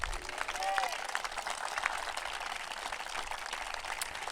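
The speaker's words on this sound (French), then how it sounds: "je crois qu'on peut les applaudir bien fort." An audience claps steadily, a dense patter of applause throughout with a faint whistle near the start.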